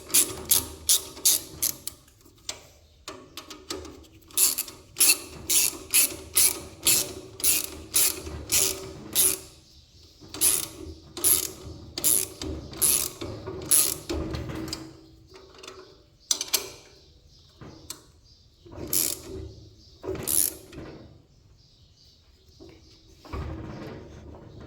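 Tine bolts on a Troy-Bilt Horse tiller are tightened with a ratchet, which clicks in long, rapid bursts broken by short pauses and faint metallic handling, close and loud.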